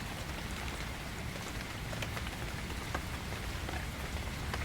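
Gentle rain falls steadily through a forest, a dense, even patter on leaves and ground with soft scattered drops, continuous and close, with no voices.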